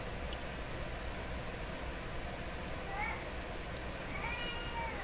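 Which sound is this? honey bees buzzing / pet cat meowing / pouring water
pet cat meowing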